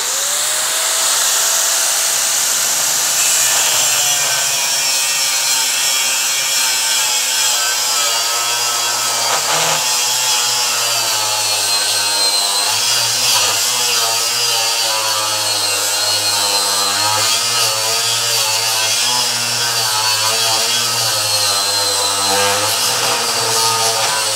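A Kyocera AG1009 angle grinder cuts continuously with a loud, high, steady whine and grinding rasp that shifts slightly in pitch as it bites into the work, with no speech.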